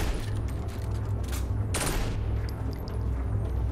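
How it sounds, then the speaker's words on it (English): Gunfire and booming blasts in the Saints Row 4 video game, a dense, continuous barrage with a sharper impact near the middle, heard alone without talk. "Who the hell is shooting at me?"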